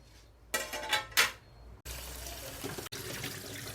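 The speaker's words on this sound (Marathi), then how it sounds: "मच्छीचं हळद मीठ धुवून टाकलेलं आहे" Catla fish being washed clean of turmeric and salt under water: splashing and handling in a vessel, then a steady close stream of running tap water.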